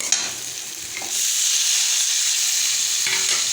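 Coconut, mint, coriander and curry leaves hit hot oil with a sharp burst of sizzling, then settle into a steady, close frying hiss with stirring scrapes near the start and end.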